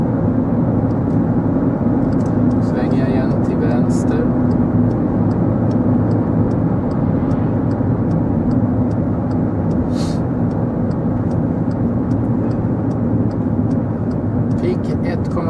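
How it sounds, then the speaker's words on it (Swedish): Cabin of a VW Polo 1.4 TSI small car at about 70, with a steady low engine and road hum, fairly quiet and well insulated, while someone talks over it. "Och motorljudet är inte allt för högt."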